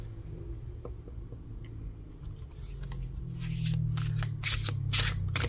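Oracle cards are shuffled by hand, soft riffling and slapping that starts light and grows louder and denser toward the end, with scattered crisp ticks and no talking.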